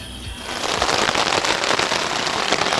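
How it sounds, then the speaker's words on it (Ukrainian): Rain starts falling on a tent at a riverside campsite, quickly building into a dense, even patter of drops that stays loud and close with no voices. "А у нас почався дощ і припинилась музика."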